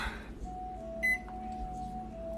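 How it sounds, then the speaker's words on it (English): A kitchen timer sounds a thin, steady electronic tone as it is set for baking muffins, with one brief louder beep partway through, close and alone. "set a timer for 18 minutes."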